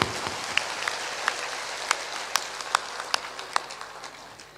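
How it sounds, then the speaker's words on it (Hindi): Audience of a spiritual discourse clapping with raised hands, a light patter of scattered claps with a few sharper isolated claps standing out, fairly quiet and steady throughout, with no talking. "तो ऊपर ऊपर ताली बजा दो।"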